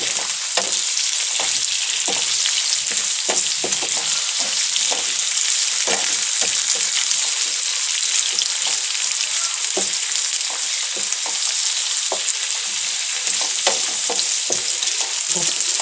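Tomatoes fry in a hot pan for matar paneer, a steady loud sizzle with frequent sharp crackles and pops, heard alone without talk.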